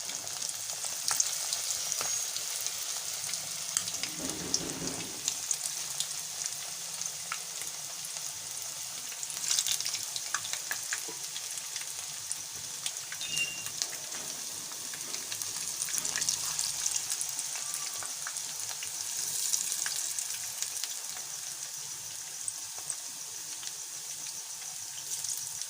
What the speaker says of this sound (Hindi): अब हम एक एक पीस उठाएंगे और फ्राई करने के लिए हम रख देंगे। ऑयल घी हमने बहुत अच्छे से गर्म कर ली है।